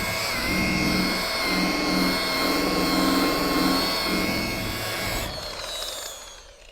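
A rotary polisher buffs car paint with Meguiar's Ultimate Compound at low to medium speed, giving a steady, loud motorized whine with a low hum, close and continuous for several seconds before easing off at the end.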